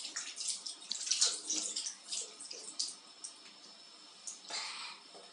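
Water from a household tap runs into a sink while hands and a mouth are washed, a steady splashing stream with brief bursts and drips, fairly close, with no talk over it.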